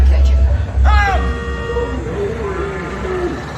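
A horn honks amid a Cars Land attraction at Disney California Adventure, a loud, short cartoonish toot with a brief tail, mixed with speech and background rumble.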